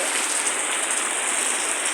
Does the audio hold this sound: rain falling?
yes